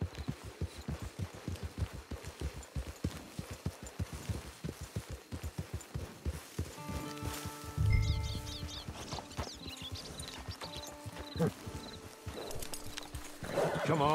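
Horse hooves in the Red Dead Redemption 2 video game, a steady rhythmic clip-clop of a nearby horse followed by a whinny and game music, with no talking.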